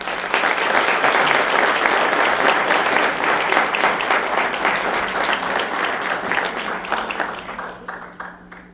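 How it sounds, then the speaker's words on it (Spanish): An audience applauds a speaker being welcomed to close an event, a dense, steady wash of many hands clapping at full strength before thinning and fading slightly toward the end. "Recibamos con un fuerte aplauso a Alejandro Torres Lepori"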